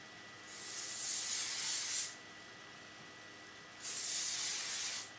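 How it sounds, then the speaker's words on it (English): Two long hissing bursts of KQC Thermal Shine heat protectant spray being misted over hair before flat-iron curling, each lasting over a second with a quiet pause between, close and alone. "you're going to take your heat protectant spray"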